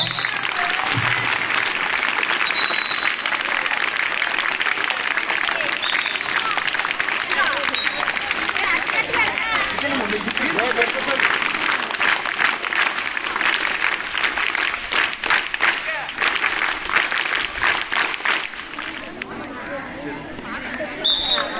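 Audience applause at an award ceremony, sustained clapping from a crowd that continues for the whole stretch, with some murmuring voices mixed in.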